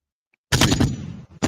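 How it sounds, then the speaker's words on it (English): Gunshot sound effects played from a soundboard, a sudden loud burst of rapid cracking shots followed by a short decaying tail and another abrupt burst at the end. "That's supposed to be some gunshots."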